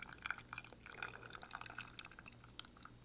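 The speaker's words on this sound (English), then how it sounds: "you're just going to do a slow pour of 120 milliliters of water" Water poured slowly, about 120 milliliters, onto soil at a workshop: a faint, steady trickle with small drips throughout, with no voices.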